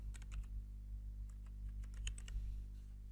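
Quiet clicking of computer keys in quick, uneven bursts over a low steady hum, typed close by with no talking.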